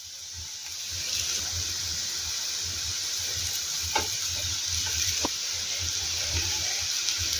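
Steady close sizzling of mashed boiled potato with spices and black salt frying in a pan, with occasional light clicks of stirring over the constant hiss.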